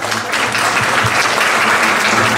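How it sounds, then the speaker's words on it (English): An audience applauds a guest speaker just introduced, a loud, close, dense burst of clapping that carries on steadily throughout. "Give him a round of applause."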